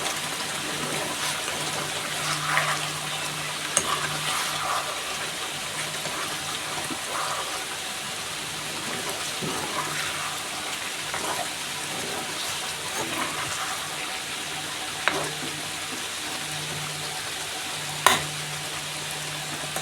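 Chicken simmers in its own released juices in a covered pan for a Bengali chicken kosha, giving a steady low bubbling sizzle with wet gurgles. A few sharp clinks of a utensil come through, close and moderately loud.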